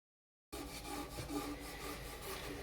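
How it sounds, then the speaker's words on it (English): A negative rake scraper makes sweeping passes across an elm live-edge bowl spinning on a lathe: a soft, steady rasping scrape that begins abruptly after a moment of silence and continues quietly without pause. "here I am using my negative rake scraper, just starting at the outside, making large swinging passes from the rim to the bottom of the bowl"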